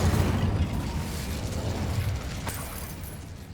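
Incendio, a fire spell from the video game Hogwarts Legacy, is cast nearby. It makes a loud, dense roaring whoosh that starts at full force and eases slightly as it continues, with no voices.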